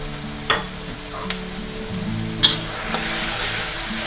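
Sausages stir-fried in Thai chili paste sizzle steadily in a hot pan, with a few sharp scrapes and clicks from the spatula and no speech.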